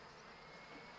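Package honey bees being put into a hive hum in a steady, even buzz, a faint continuous drone with no other sounds over it.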